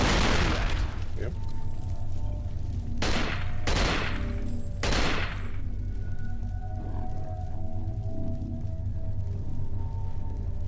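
Gunfire in the horror game Cold Fear, set on a whaling ship: a burst near the start, then three sharp shots close together over a low rumbling background.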